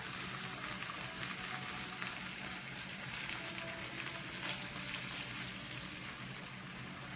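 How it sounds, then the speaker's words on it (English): Beaten egg mixture hits a hot frying pan, giving a steady, dense sizzle and crackle that holds evenly throughout, close and moderately loud with no voices. "now we're going to add in the egg mixture"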